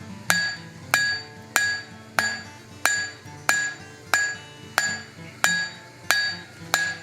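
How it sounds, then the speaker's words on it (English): The cross peen of a hammer fullers hot steel on an anvil while an axe is hand-forged, thinning half-inch stock: about a dozen evenly spaced, bright ringing clangs at close range, each decaying quickly before the next. "Now I'm switching to my cross beam, the back of my hammer there to help spread things."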